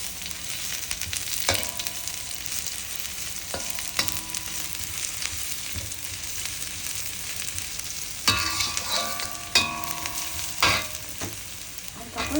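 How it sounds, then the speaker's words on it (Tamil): Two handfuls of onion frying in a pan for mutton pepper varuval, with cinnamon and chilli going in, a continuous close sizzle under sporadic spatula scrapes and clatters that grow busier toward the end, no talking. "நல்லா 2 கைப்பிடி வெங்காயம் போட்டு நல்லா வதங்கி விட்டுக்குவேன்"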